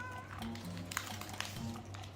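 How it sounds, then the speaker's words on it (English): A cat near a homemade taped ball toy gives a few short, soft meows, with light taps and rustles close by. "Oh, my cat's already trying to get it"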